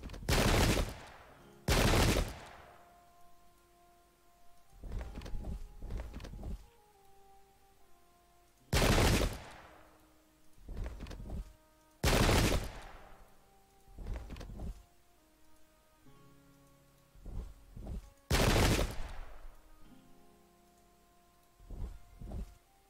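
Musket volleys ring out in the Pike and Shot game, several loud sharp bursts at irregular intervals, each followed by a decaying rumble, with quieter battlefield noise between.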